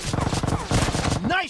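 Rapid automatic gunfire from the mobile battle-royale game BGMI, played in 8 vs 8 mode, rattles out in a fast burst. Game voice lines and effects sound over it, ending in a rising electronic tone.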